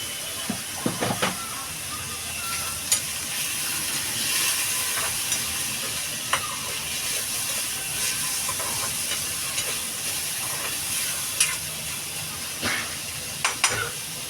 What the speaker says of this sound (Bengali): এটা একটু ঢাকা দিয়ে ভাজবো আমি এটাতে দিয়ে দেব সামান্য নুন দিয়ে দেব আর সামান্য হলুদ দিয়ে দেব